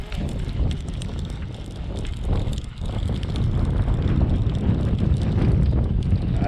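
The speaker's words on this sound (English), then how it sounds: "When there comes the wind finally." Steady wind gusting over open water around a fishing boat in shallow water, a loud broadband rush buffeting the microphone and building stronger through the second half, with no voices.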